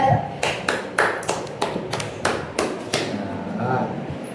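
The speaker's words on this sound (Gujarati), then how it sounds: "હા ચલો હવે હું આ તાળી વગાડો" About a dozen sharp hand claps, close and slightly uneven in rhythm, at a family birthday cake celebration at home, with faint voices in the background.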